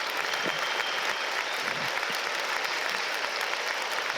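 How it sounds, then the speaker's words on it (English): Football stadium crowd at a Sunderland versus Derby County match applauds substitute Chris Rigg, a steady, dense wash of clapping heard at some distance. "good round of applause for Chrissy Rigg"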